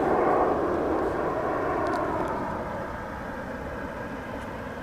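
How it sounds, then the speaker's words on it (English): American Airlines jet taxiing near the maintenance facility at DFW airport, a broad, continuous engine roar heard at a moderate distance that slowly eases in loudness, with no talk over it. "There's an American Airlines aircraft which is, not sure if it's pulling into or pulling out of the maintenance facility here"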